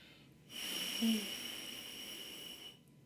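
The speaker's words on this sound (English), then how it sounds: "You might not have your lips touching inside the mouthpiece and it would sound like this." Air blown through a trombone mouthpiece without lip buzz: a soft, breathy rush lasting about two seconds, hollow and unpitched, with no buzzing tone, close and fairly quiet.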